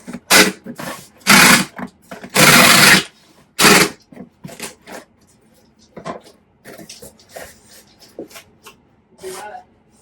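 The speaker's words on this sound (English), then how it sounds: "Noise warning. It's going to be loud tape." Several loud, ripping screeches of packing tape pulled off a roll in quick bursts, followed by quieter crinkling and handling noises nearby.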